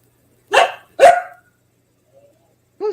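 A dog gives two loud, close barks in quick succession, followed by a pause with only faint sound before a brief, quieter yelp at the end.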